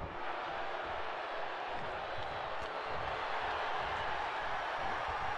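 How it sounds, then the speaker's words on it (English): Steady, dense crowd roar from a wrestling arena in WWE 2K22 during a Rowdy Roddy Piper versus Arn Anderson match, a continuous wash of cheering at constant level with no distinct peaks. "The crowd here tonight getting behind Rowdy Roddy Piper"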